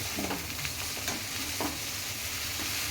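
Egg fried rice with lemon stirred in a pan on high heat, a dense, constant sizzle and hiss with faint scraping strokes, steady and close, and no voices.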